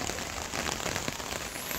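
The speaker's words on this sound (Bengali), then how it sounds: "কত বৃষ্টি হচ্ছে" Faint, steady patter of rain falling on surfaces, a soft continuous hiss with scattered drops.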